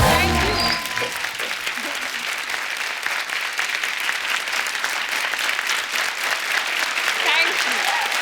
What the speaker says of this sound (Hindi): दीपिका के लिए एक बार जोरदार तालियां